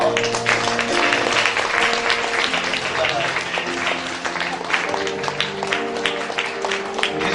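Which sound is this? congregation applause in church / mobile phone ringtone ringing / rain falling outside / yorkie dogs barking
congregation applause in church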